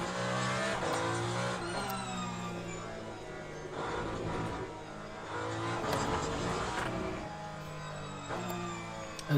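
A Porsche hypercar races at Fuji during a WEC endurance event, its engine howling loudly through rising and falling revs and gear shifts as other cars pass nearby.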